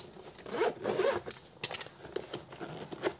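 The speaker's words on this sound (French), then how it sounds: "Elle a une grande fermeture éclair, mais avec 2 trucs à zip." A large zipper with two pulls on a bag is drawn open in several quick, raspy strokes, close up and moderately quiet.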